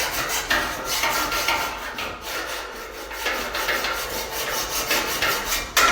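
A hacksaw cuts through a ladder rung, giving a steady raspy stroking that goes on without a break for about six seconds, close and fairly loud, with no voices.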